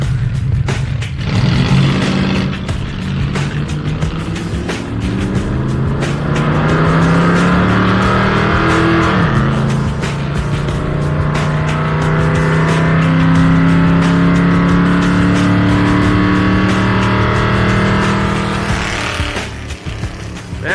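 A 1979 Ford Ranchero accelerates hard down a drag strip, its engine roaring loudly and steadily as it climbs through the gears for about twenty seconds, with no talk over it.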